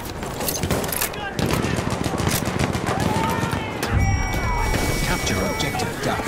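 Sustained machine gun fire rattles through a chaotic Battlefield 1 battle, with dense overlapping shots and impacts amid shouting soldiers.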